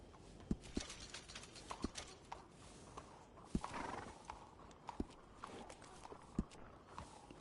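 A horse neighs and whinnies faintly amid scattered hoof clops and footsteps, with sharp irregular knocks standing out against a quiet background.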